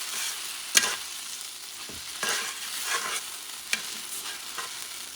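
Ribeye steaks fry in butter in a pan, a continuous soft sizzle with a few louder spatters and occasional scraping stirs, heard close and alone without speech.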